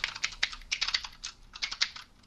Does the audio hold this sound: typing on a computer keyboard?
yes